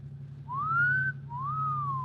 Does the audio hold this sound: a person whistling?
yes